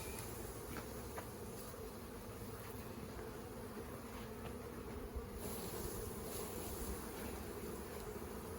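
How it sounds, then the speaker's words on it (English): Honey bees buzz around an urban hive, a dense steady hum of many insects close by, continuous and even with a few brief louder passes, no voices. "A lot of those bees, it may have been their first time out of the hive."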